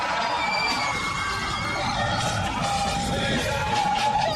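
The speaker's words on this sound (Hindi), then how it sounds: "ये जिंक्स का चिल्लाना है, इसे मत सुनो।" A creature screams in a Hindi-dubbed Hollywood martial arts film, a sustained, loud, harsh shrieking wail that fills the whole stretch with dense, rough noise, like a chaotic crowd of yells.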